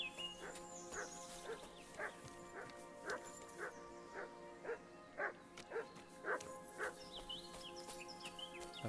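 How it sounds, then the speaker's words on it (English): A dog barks repeatedly in the distance, faint evenly spaced yaps over a low background hum, with a voice murmuring at times. "I hear barking"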